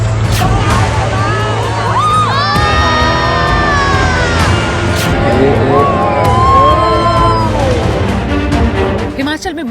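People scream and wail amid a flash flood in a mountain region. Many overlapping cries rise and fall loudly and continuously, with siren-like wails among them.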